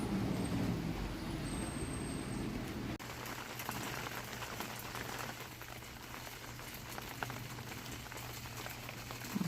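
Rain falling steadily in a backyard, a continuous soft hiss of drops pattering on surfaces, with a faint low hum underneath and a brief shift partway through.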